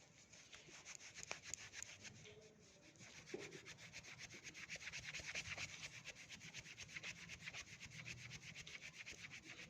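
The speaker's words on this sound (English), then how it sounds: "Now we are going to rub the scale with the silk cloth" A plastic scale rubbed briskly with a silk cloth, a steady, faint, close scratchy swishing in quick repeated strokes that continues for the whole stretch with no talk.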